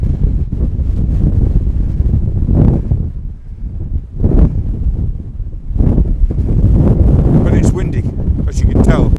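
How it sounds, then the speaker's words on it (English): Strong wind buffets the microphone on the summit of Great Howe above Thirlmere in the Lake District. The roar is loud and rumbling, surging in gusts that rise and ease over several seconds. "Windy, as you can tell."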